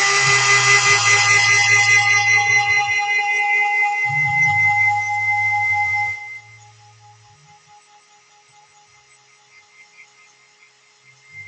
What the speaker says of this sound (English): I think we'll need to do the heat gun just momentarily because it's not enough time for it to actually dry